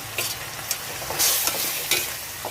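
Pork and aromatics sautéing for Bicol-style dinuguan, a pork blood stew, hot oil sizzling as a spoon scrapes the pan in a few quick strokes, close up with no voices.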